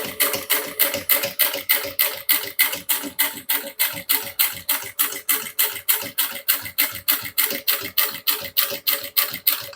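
A sewing machine stitches slowly, one stitch at a time, beside the metal zipper of a handmade bag, making a steady, regular run of sharp mechanical clacks and taps at close range with no talk.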